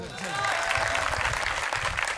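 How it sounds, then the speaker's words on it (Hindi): Loud, dense applause from a crowd at a Hindi poetry recital, sustained without a break over the short span, with voices mixed in beneath the clapping. "10 मिनट के लिए ताली बजाओ जोर से"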